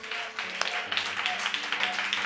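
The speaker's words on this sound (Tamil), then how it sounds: "நல்ல கைத்தட்டி கர்த்தரை மகிமைப்படுத்துங்கள் பார்ப்போம்" A Tamil Sunday church congregation claps together in praise, a scattered run of hand claps heard under a preacher's voice and background hum.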